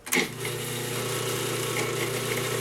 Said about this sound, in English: And it's just chopping up the thyme, not much effort.